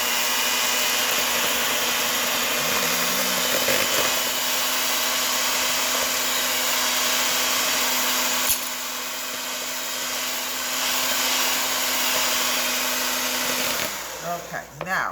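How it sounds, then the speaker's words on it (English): An electric mixer whips eggs for a sponge cake, a loud steady motorized whir with a constant hum that runs nearly unbroken and stops near the end, while a voice talks faintly underneath. "I'm going to mix these eggs now."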